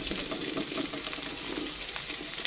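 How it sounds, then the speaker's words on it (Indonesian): Tempeh frying in hot oil, a steady dense crackling sizzle with scattered pops, close and continuous throughout. "Ini minyaknya udah panas, langsung aja saya mau goreng tempenya"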